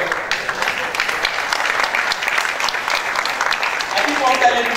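Audience applause at an architects' colloquium, a steady spread of clapping that holds at an even level throughout and swells slightly near the end.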